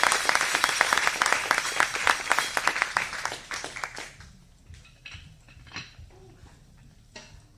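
Applause from an audience at a taiko drumming spring showcase, dense clapping for about four seconds that then thins into scattered claps and fades out.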